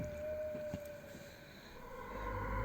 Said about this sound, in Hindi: फिर थोड़ी देर बाद अंजलि को बाहर सायरन की आवाज़ सुनाई दी